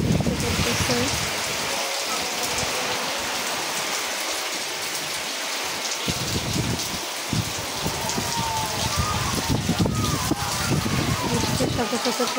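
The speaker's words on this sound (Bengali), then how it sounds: "বৃষ্টির সাথে সাথে প্রচুর বাতাস।" Heavy rain driven by strong wind, a loud, steady wash of downpour that roars on without a break for the whole stretch, close and all-enveloping.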